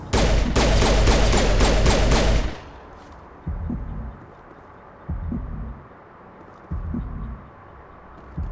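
Gunfire in the video game Mass Effect Legendary Edition: a loud, rapid burst of automatic shots for about two seconds, then softer, evenly spaced muffled thumps repeating in the background.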